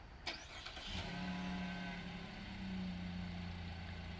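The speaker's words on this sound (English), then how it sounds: "it does come equipped with factory remote start" A Chevy Colorado truck started by its factory remote start: a quick click, a brief cranking catch, then the engine settles into a steady, low idle, heard close and alone without talk.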